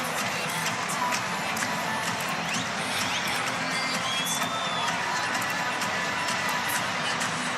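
Arena crowd at an NBA game between the Dallas Mavericks and Golden State Warriors, a dense, loud, continuous roar of cheering with whoops, under a commentator's voice.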